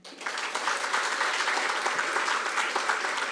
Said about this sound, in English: why don't we welcome everyone in this room with a big round of applause once again.